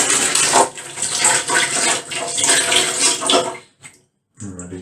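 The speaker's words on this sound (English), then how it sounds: "I'll just quickly rinse off." Water from a tap runs loudly and steadily close by as soap lather is rinsed off hands, with splashing variations, then cuts off abruptly near the end before a brief trickle returns.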